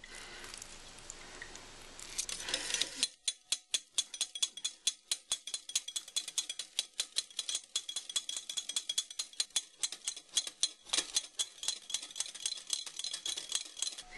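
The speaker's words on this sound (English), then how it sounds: "So I whisk them up" Eggs are whisked by hand in a bowl for tartare sauce, giving fast, rhythmic clicking and tapping strokes up close that continue steadily after a brief rustle at the start.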